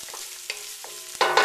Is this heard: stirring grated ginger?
yes